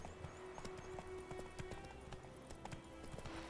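Roach the horse's hooves clip-clopping in The Witcher 3, a faint steady trotting rhythm under quiet game ambience.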